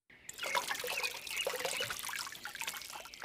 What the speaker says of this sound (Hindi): चलो अब इस बर्तन में थोड़ा पानी डाल देती हूँ।